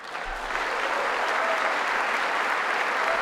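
Dense, steady applause fills a congressional chamber, many hands clapping at once in a continuous roar without breaks, no voices standing out.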